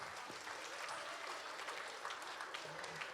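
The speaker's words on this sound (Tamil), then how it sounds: "ஸோ அந்த குழந்தைங்களுக்கு ஒரு பெரிய கைத்தட்டல் கொடுத்துடலாமா?" An audience applauds children at a stage event, giving loud, continuous clapping that fills the room, with some voices mixed in.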